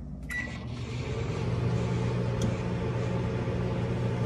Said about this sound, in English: then you just gotta put it in the microwave